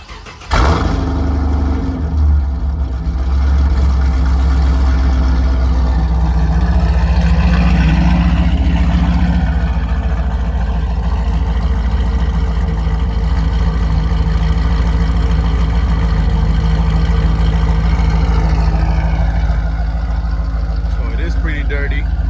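A Pontiac G8 GT, just after burnouts, sits with its engine rumbling steadily in a deep, loud idle that runs unbroken for the whole stretch after an abrupt start.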